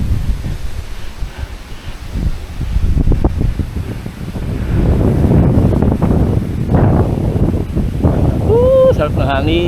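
Strong wind buffets the microphone with a roaring gust noise, growing louder midway, while a person talks and a faint beeping whistle appears near the end.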